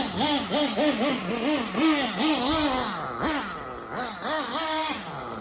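A nitro RC truggy engine runs nearby with a buzzing, wavering note that rises and falls in short blips before settling toward idle, loud and close without speech.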